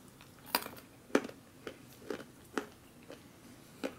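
Raw almonds from an MRE accessory pack being chewed up close, a series of about eight sharp, crisp crunches spaced at a steady pace over quiet background, no talk.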